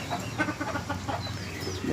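Chickens and roosters for sale at a pet shop in Thanjavur cluck close by in a brief, busy chorus of overlapping clucks.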